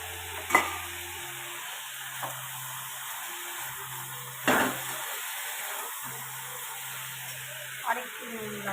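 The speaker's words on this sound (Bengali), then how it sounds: "দেখো এটা হয়ে গেছে ভাজা ভাজা, শাকটা অল্প নেড়ে নিলাম।" Greens frying in a pan and stirred with a utensil: a few sharp scraping strokes at irregular intervals over a low, quiet sizzle and a background hum.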